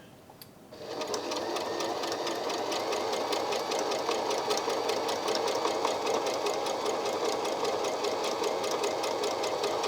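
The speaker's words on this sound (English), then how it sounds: "The machine did a very small bar tack at the front." A Brother My Star 3 industrial sewing machine stitching a bar tack starts abruptly and runs at a fast, even, mechanical whir with rapid rhythmic clatter, close and continuous.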